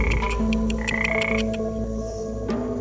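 Kambo frog in the Peruvian Amazon near Iquitos croaking while its poison is scraped off, a close series of sharp, repeated clicking calls over a low rumble, with no speech.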